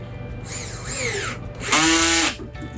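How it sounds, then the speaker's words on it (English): A power drill drives a screw into a custom wooden drawer assembly held with a clamp, giving two short whirring bursts followed by a louder, longer run that ends abruptly, close by with no talking. "And then we're just going to drive a screw in and send it home."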